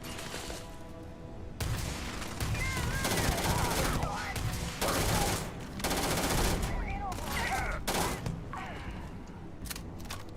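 Rapid automatic gunfire from a weapon loaded with white hot rounds in the game Starfield, loud sustained bursts broken by short pauses, with chirping in-game sounds layered over the shooting.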